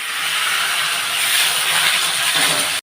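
Potatoes frying with whole spices in a kadai give off a loud, continuous steamy hiss, close and even throughout.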